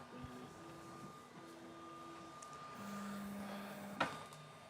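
A Sovol SV08 3D printer runs its stepper motors, producing sustained tonal whines that shift pitch in steps, faint and steady, with a brief clack near the end.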